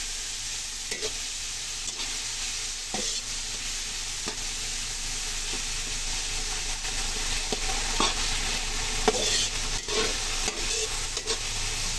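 Tomatoes sauté in a pan for pinakbet with a constant close sizzle, punctuated by occasional scrapes and stirring knocks of a utensil, and no talk.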